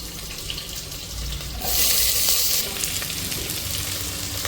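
Chopped large onion drops into hot oil for a country chicken curry, setting off a loud, close hissing sizzle that swells sharply midway, then settles into steady crackling frying.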